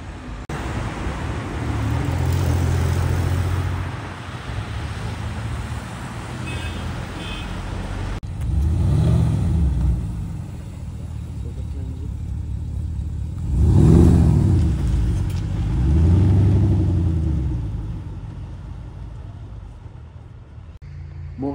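A Porsche at a Bugatti festival revs its engine several times, each loud rise and fall close by, over a background of outdoor road and crowd noise.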